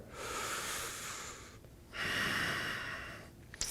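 Slow, audible breaths during a yoga core-strength exercise, with one long exhale, a short pause, then a second long breath, close and soft with no talking.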